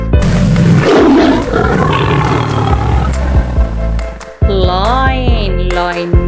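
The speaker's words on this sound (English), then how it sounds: "Tiger." A tiger roars loudly and close, one big rumbling roar in the first half, followed by a sliding, tonal animal-like sound.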